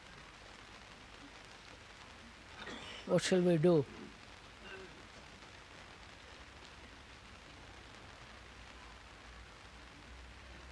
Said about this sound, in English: I'm sorry it's raining so much, you're all out there.